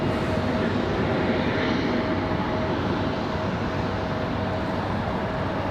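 A Republic Airways Embraer E175 jet takes off from runway 23 right at Raleigh-Durham airport, making a loud, continuous engine roar that holds steady throughout, heard outdoors from a fair distance.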